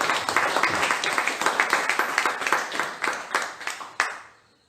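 A church congregation claps after a sermon, a fairly quiet and quick run of separate handclaps with a few sharp accents that fade out at the end.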